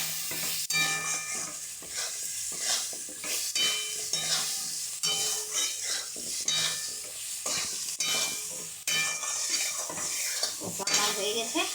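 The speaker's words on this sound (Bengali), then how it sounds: "এবার আমি খুব ভালো করে কষে নেব।" Spices for a rohu fish curry with papaya sautéed in a pan, with repeated metal spatula scrapes and knocks against the pan over a steady frying sizzle, close and rhythmic, with no speech.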